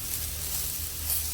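Onions frying in oil give a brief, even, close sizzle with a low hum underneath.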